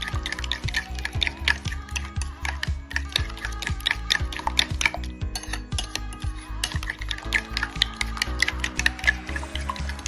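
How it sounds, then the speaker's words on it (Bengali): Dahi bhalla batter beaten in a bowl, vegetarian with no onion, giving a steady run of quick close tapping and slapping strokes for the whole stretch, with no talk over it. "এটাকে ভালো করে ফেটিয়ে নেব"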